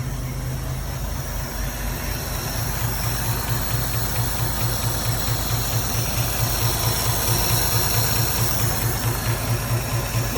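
The engine of a 1934 Chevy Woody Wagon idles while running rich, a steady, loud, continuous rumble with an even throb that holds for the whole stretch, with no voices.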